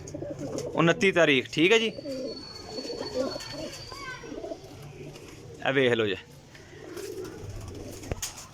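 Pigeons of a flying breed coo close by in a loft, two loud bursts of rolling coos separated by quieter bird sounds, with someone talking intermittently over them.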